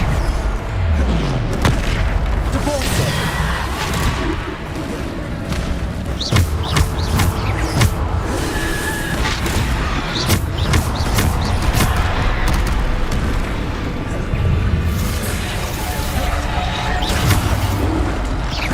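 Bombarda explosion spells cast in the video game Hogwarts Legacy, a string of loud booming blasts and sharp impacts scattered through busy, continuous combat noise.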